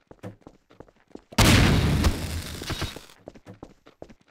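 An explosion in the Garry's Mod Melonbomber game, a loud, broad blast with a crackling, rumbling tail lasting under two seconds, set between bursts of excited shouting from players.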